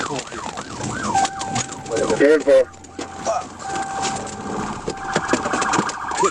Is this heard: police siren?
yes